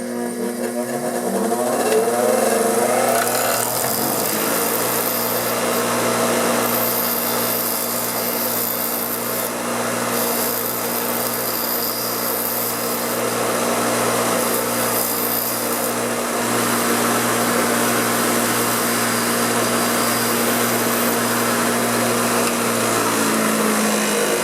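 A power grinder, used with safety goggles, rounds off the edge of a metal part from a riding lawn mower deck during a pulley repair. It gives a loud, continuous abrasive whine and rasp that runs steadily for the whole stretch, with no talking.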